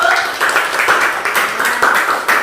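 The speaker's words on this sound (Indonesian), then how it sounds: "Kita beri tepuk tangan untuk kelompok 1." Students in a classroom applaud a student group after its presentation, a loud, continuous patter of many hand claps close by with voices blending in.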